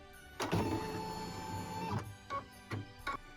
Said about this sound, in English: what we're stitching now is the cut lines so that we know where to trim these out